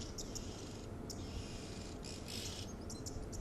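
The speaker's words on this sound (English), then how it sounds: "the value of listening to the sounds of the oxpecker" Oxpeckers chirp in an African bush setting at dusk, a faint, steady twittering of small bird calls over a dense background of insect and cricket noise, with no voices.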